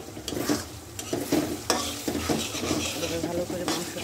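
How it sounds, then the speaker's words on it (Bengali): Broiler chicken meat being stirred and fried in a pan, with steady close sizzling broken by repeated scraping strokes of a spoon through the four seconds, no talking. "ভালো করে মাংসটা একটু কষিয়ে নেব"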